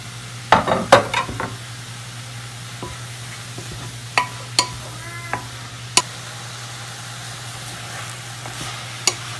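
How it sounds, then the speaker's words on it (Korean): Carrot, onion and other vegetables are stir-fried in a pan, giving a soft sizzle under a steady low hum, with sharp clacks of a utensil scraping and tapping every second or two. "어느 정도 야채를 넣고 조금 볶아주시다가 뜨거운 물을 부어줄게요."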